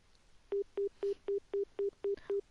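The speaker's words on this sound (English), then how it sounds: "Why is no one picking up the phone?" In the game Nekopara, an unanswered telephone call rings as eight short, evenly spaced electronic tone pulses, fairly clear against a quiet background.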